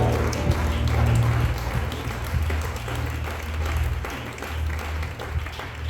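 A church congregation at a Thursday worship service claps and cheers together, producing a sustained, fairly loud wash of applause with a few scattered sharper claps.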